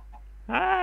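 Chicken in a video game giving a single short cluck after a quiet moment, close and clear.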